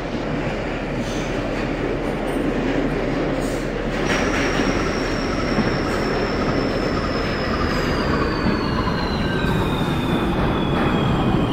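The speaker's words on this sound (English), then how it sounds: "This is a Forest Hills 71st Avenue bound R train" An R160A subway train on the R line, recreated in the OpenBVE train simulator, runs with a loud, dense roar of wheels on track. A thin, high wheel squeal rises partway through and slowly drops in pitch, and no one speaks over it.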